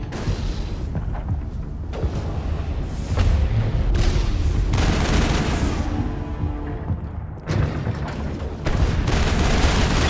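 A turret in Mass Effect fires heavy booming bursts that continue for about ten seconds, dense and loud, with a brief lull before the firing resumes.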